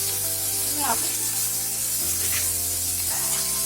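Sliced onions with a sprinkle of sugar sizzle and hiss steadily in a hot pan, with occasional scraping stir strokes, a constant close frying texture throughout.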